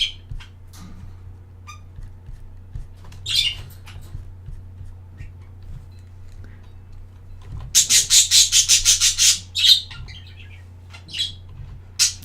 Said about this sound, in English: The bird sound is wonderful.